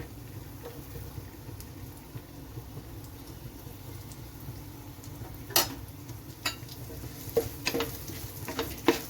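Finely chopped garlic, five cloves, sizzles steadily in hot oil in a pan while being stirred, with a few sharper clinks of the spoon against the pan near the end.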